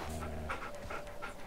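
A tamed dog-like beast in Far Cry Primal panting close by, with quick rhythmic breaths repeating steadily, loud and alone with no talking.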